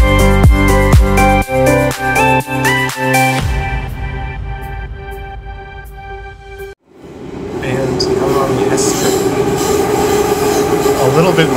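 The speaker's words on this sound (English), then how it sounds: "Bit more noisy than the other train." A train rumbles loudly through a station, wheels clattering and squealing, with a metallic chiming signal at the start before the roar settles into a steady rush.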